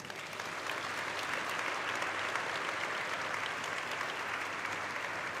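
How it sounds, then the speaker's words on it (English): A large audience applauds steadily at a stock exchange bell-ringing ceremony for an eyewear company's market listing, a dense, even wash of clapping that holds at full strength throughout. "A big round of applause for all of them."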